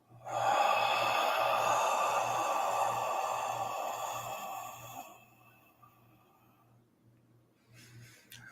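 A person takes a long, deep breath in during guided meditation, a close, airy inhale that fades out over several seconds, with a faint rhythmic low pulse underneath throughout.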